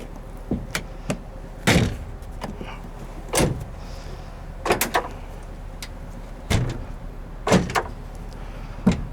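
A 2020 GMC Sierra 1500 SLT's six-way adjustable tailgate is worked, producing several loud metallic clunks and latch thuds spaced a second or two apart over faint outdoor background.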